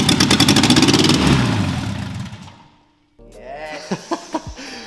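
A Peugeot 309 GTI engine, with its plug firing order just rechecked, churns and rumbles loudly in a rough, pulsing burst that fades into a brief silence. Softer sounds and voices follow.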